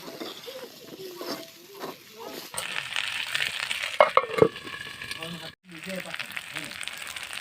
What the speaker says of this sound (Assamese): কচুখিনি অলপমান ভাজি লোৱাৰ পিছত